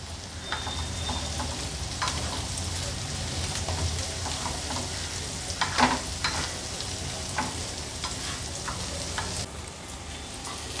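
Onions and prawn thecha paste fry on a medium flame with a continuous crackling sizzle. Scraping stirring strokes are heard up close, with a few louder pops.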